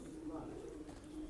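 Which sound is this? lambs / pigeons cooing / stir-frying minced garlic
pigeons cooing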